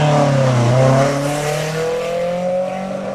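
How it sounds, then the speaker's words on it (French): A 1976 Renault Alpine A310 1600 V6 accelerating hard at a historic hill climb, its engine note rising loud and close, then easing into a steady pull as it moves on. "la Renault Alpine A310 1600 V6 de 1976"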